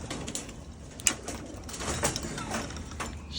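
Pigeons coo softly in a backyard loft among a small flock, a steady murmur of low calls with a few sharper flutters or knocks, near and continuous.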